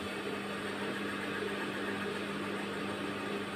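A high-speed straight-stitch sewing machine restarted and kept running slowly on its foot pedal produces a continuous, nearby mechanical hum of constant level, with no speech over it.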